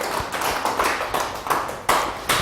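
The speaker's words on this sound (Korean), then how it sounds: "그런 여러분들을 위해서 박수 한번 쳐주시겠습니까?" Lecture audience clapping on request, a sparse, uneven round of distinct claps with a few sharper individual hits standing out near and clear.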